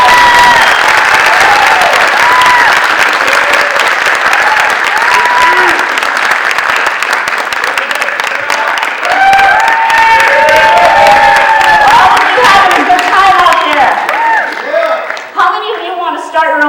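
A large crowd at a business talk breaks into loud sustained applause mixed with cheers, whoops and shouting voices, the roar staying strong before easing near the end.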